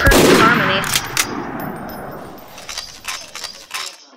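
Loud sniper gunshots in the video game Garry's Mod, one strong blast with a ringing decay, followed by quieter scattered shots and metallic clinks.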